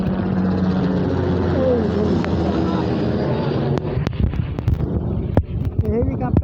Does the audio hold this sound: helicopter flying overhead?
yes